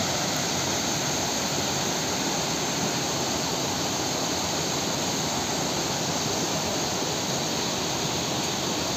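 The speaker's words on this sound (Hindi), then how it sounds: "बहुत पर्यटक यहाँ पर देखिए लुत्फ लेते हुए वाटरफॉल का।" A waterfall in dense forest at Kaladhungi near Jim Corbett roars as a loud, unbroken rush of falling water that fills the whole stretch with no voices.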